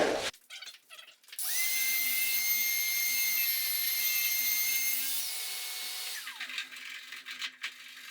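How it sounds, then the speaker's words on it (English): A restoration sanding tool wired to a dust-collection vacuum whines steadily as it works over rustic barn beams, starting abruptly after a clunk and running loud for several seconds before winding down. "I have the restoration tool hooked up to the vacuum with an IVAC switch, so as soon as I turn on the tool, the dust collection will activate."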